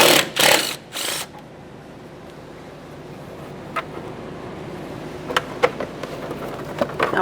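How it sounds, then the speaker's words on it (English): A ratchet works a 10mm-headed mounting bolt on the fuel tank filler neck of a 1992-1996 Toyota Camry, with a rapid, loud mechanical clicking burst at the start, then a quiet stretch broken by a few sharp, isolated clicks. "We'll continue on to our 10mm headed mounting bolt holding this in."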